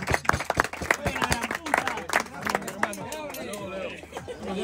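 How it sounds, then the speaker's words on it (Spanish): A few people clap in scattered, uneven bursts while lively voices talk and shout over them nearby. "Un aplauso para Sol, che"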